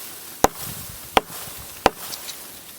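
Three sharp, evenly spaced chops of a Hytest Craftsman axe striking dried-out tallowwood and turpentine limbs about three inches thick, each a crisp close crack over quiet outdoor background.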